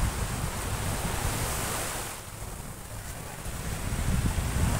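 Waves wash onto the seashore at Boracay beach, a broad rushing surf that swells, eases briefly and builds again, mixed with wind buffeting the microphone and no clear speech.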